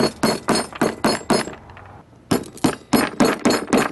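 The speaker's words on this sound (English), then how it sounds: "Now you're going to get the hammer right here, and put the paper inside." A hammer taps foil into a CVT scooter roller weight: six quick, close, sharp knocks, a short pause, then another run of six steady strikes.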